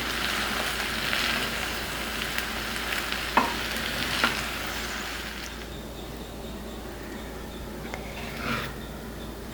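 Capsicum fried rice being stirred and tossed in a frying pan, giving a steady close sizzle and frying hiss with a few sharp scrapes and clinks of the utensil against the pan, fading quieter toward the end.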